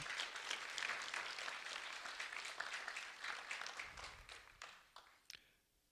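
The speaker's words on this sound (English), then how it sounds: "a round of applause" A crowd applauds loudly and steadily, the clapping thinning out and fading away over the final seconds.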